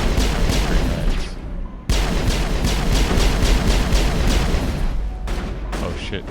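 Rapid, dense bursts of gunfire from a fight against a big turret in the Mass Effect video game, loud and close, hammering continuously with a brief break before resuming.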